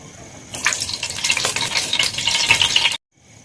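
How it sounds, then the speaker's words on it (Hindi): Ground spices hit about a cup of hot oil in a pan, bursting into a loud, dense sizzle that holds for a couple of seconds before cutting off abruptly. "अब इसमें हमने अपने ग्राइंड किए हुए मसाले डाल देंगे"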